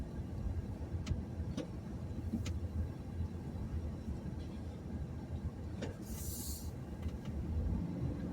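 A vehicle drives along city streets during a scrap-collecting run, heard from inside the cab as a steady low road and engine rumble with occasional faint clicks and a brief hiss.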